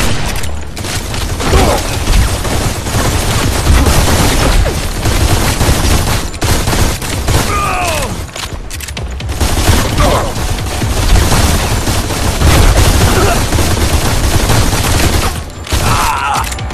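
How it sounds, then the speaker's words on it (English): Dense, heavy gunfire fills the whole stretch in a Modern Combat 4 battle: rapid automatic bursts overlapping with booms and mechanical clatter, loud and continuous with almost no let-up. "Taking heavy fire!"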